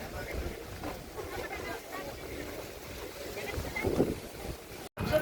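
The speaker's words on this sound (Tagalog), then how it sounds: "ang lakas ng hangin dito" Strong wind buffets the microphone in steady roaring gusts, with muffled voices speaking underneath.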